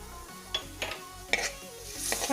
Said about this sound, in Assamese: ভালকৈ লৰাই ল'ম।